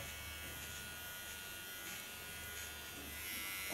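An electric hair clipper buzzes steadily and close up as it cuts a line into hair during a salon haircut for a punk-style cut, a constant electric drone without pause.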